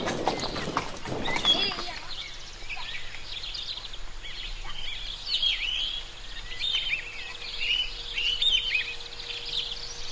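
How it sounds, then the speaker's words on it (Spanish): Horse hooves clip-clop at an unhurried pace while riding outdoors with a second horse alongside, a soft steady rhythm under chirping birds, with a louder burst of noise at the start. "que va aquí con el otro caballito."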